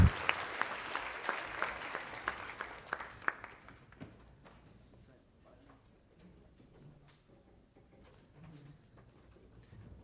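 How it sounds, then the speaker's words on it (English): Audience applause fills a room at a 4-H awards banquet, loud and dense with crisp individual claps for about four seconds before thinning out into quiet room murmur and stray sounds. "One more big round of applause for both of them"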